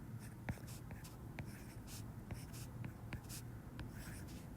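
A pen or pencil writes a math expression by hand, producing soft, faint scratching strokes with small taps. The strokes come in short, irregular bursts at close range against quiet background hiss.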